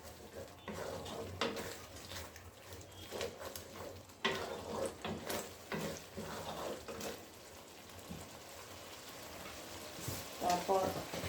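Spices and beef being stirred and fried in a pan for a beef curry, with a steady sizzle broken by scraping spoon strokes and clinks against the pot.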